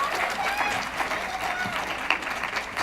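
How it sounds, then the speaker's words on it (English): An audience at a youth summit mental health talk applauds steadily, a continuous wash of clapping with some cheering and crowd noise, moderately distant. "give me a round of applause if you want to see more legislation."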